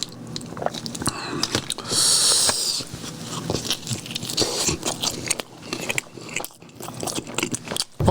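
Close-up biting and chewing of pizza dipped in garlic sauce, with crisp crunches and wet mastication sounds in uneven bursts, no talk.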